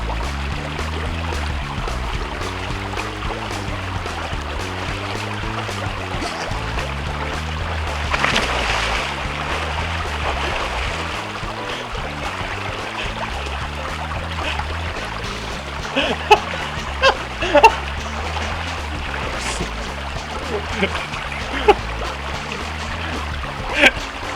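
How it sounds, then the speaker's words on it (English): Footsteps wading through shallow water on public land in Tennessee during a spring turkey hunt, with rhythmic sloshing and occasional sharper splashes, fairly close, with quiet voices at times. "just be walking in the water the whole way."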